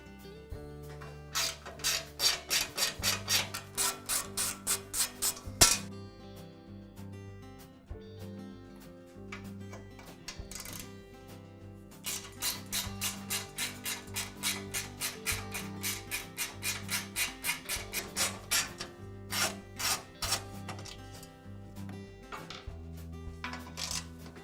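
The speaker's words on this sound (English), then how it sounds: "I'll begin by removing the top cover from the compressor." Unscrewing and lifting off the top cover of a DeWALT air compressor, heard as bursts of quick ratcheting clicks from a hand tool alternating with short pauses and a few sharp knocks, close by.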